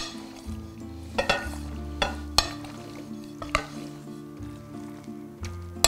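Blanched broccoli stirred into garlic and olive oil in a pan, a steady close sizzle broken by repeated sharp scrapes and knocks of a utensil against the pan at irregular intervals.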